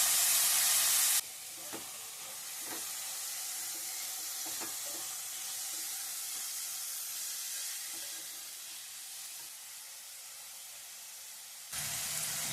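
Steady, close sizzling of chopped beans, carrot and potato frying in a hot pan, a continuous hiss with a few faint clicks of stirring.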